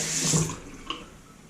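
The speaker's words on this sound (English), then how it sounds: "we're going to rinse this off" Feather Artist Style razor blades rinsed under a running tap: a short, close burst of splashing water that quickly fades.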